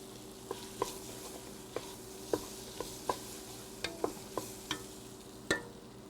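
A spoon stirs a roux for pumpkin soup, scraping the bottom of the pot in intermittent strokes over a faint steady sizzle, quiet and close, with no talking.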